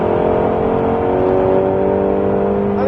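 A Ford Mustang Shelby GT500 engine at full throttle on a track driving course, its loud steady harmonic drone holding and rising in pitch as the car accelerates.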